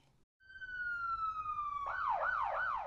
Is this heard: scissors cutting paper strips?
no